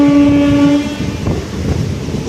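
A loud train horn blares, then fades into the rumbling, rattling clatter of a train rolling past close by.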